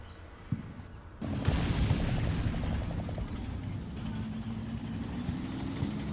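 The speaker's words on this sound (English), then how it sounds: "that was the dual firing tank destroyer throwing ATGMs out" In the Combat Mission Black Sea war game, a tank destroyer fires ATGMs: a short thump, then a loud whooshing roar that holds steady for several seconds and slowly eases off.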